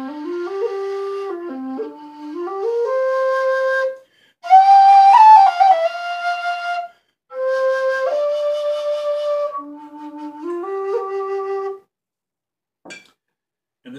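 A Colin Goldie Irish whistle in C plays a bright, clear melody up close in several phrases separated by short pauses, then goes quiet near the end.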